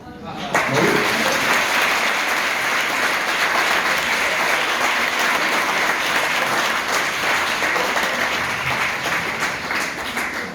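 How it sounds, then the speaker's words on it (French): Sustained audience applause at a public address, a dense, steady wash of clapping that holds loud for about ten seconds, with faint voices underneath. "comme je pense avoir les applaudissements"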